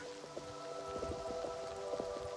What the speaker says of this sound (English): it's because I'm running through the rain and through the wind